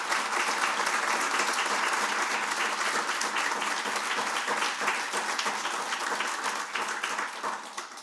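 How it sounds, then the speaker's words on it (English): A board of education candidate forum audience gives dense, sustained applause that fills the room at steady loudness, with no talking over it. "give all of our candidates a round of applause"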